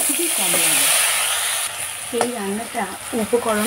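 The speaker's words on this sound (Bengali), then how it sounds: "এবার ওই তেলের মধ্যে একটা কাঁচা লঙ্কা চিরা আর একটা গোটা পেঁয়াজ পেস্ট করা দিয়ে দেব।" Slit green chilli and onion paste frying in hot oil for a Bengali sesame bhetki fish dish, a steady loud sizzle throughout with brief stirring clatters and occasional voice-like tones toward the end.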